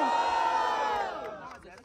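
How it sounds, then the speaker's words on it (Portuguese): Crowd at a Brazilian street rap battle roaring and shouting in a loud, sustained cheer that swells briefly and then fades out. "Barulho para Sabuá"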